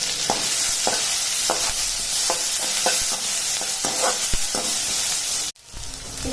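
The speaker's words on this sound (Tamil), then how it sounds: "வெங்காயம் கொஞ்சம் வதங்கட்டும்." Onions and a green chili sauté in a pan, a continuous close sizzle broken by a dozen or so sharp spoon scrapes and stirs at an uneven rhythm, then a sudden drop in the sizzle near the end.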